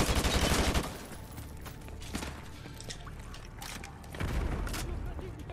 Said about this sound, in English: These guys are shooting us from all the way back there.